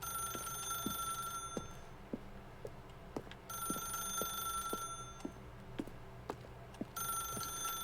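A telephone rings in The Stanley Parable video game, with electronic bell tones repeating in regular bursts separated by short pauses, alongside quieter clicks and taps.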